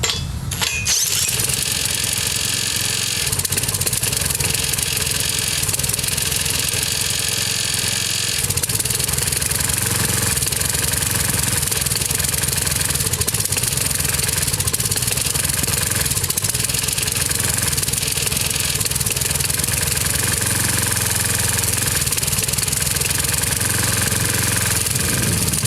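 An old Briggs engine on a Lawnboy commercial lawnmower runs rough and loud throughout, a steady uneven chugging with a harsh rattling buzz after it catches, close and continuous with no talking.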